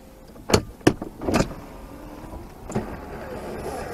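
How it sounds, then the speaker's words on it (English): A Porsche convertible roof opening: a few sharp mechanical clunks and latches, then a steady electric motor whir as the top folds back, heard close up inside the car. "So let's have the roof open."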